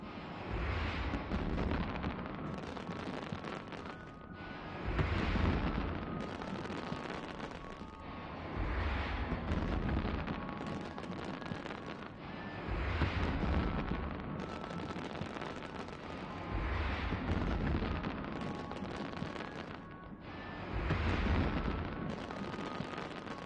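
Fireworks going off in the EVE Online spaceship game, loud booming bursts repeating about every four seconds over a steady rumbling roar, with no talking.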